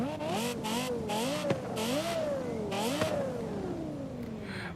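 A Porsche Carrera GT fitted with a 918 Spider V8 in Forza Horizon 5 revs loudly, its pitch rising and falling in repeated waves before one long falling sweep as it eases off.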